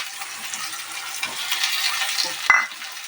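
Onion, green chili, ginger-garlic paste and chopped tomato fry and are stirred in a pan, giving a soft, steady close sizzle with scraping, then a brief sharp clink near the end.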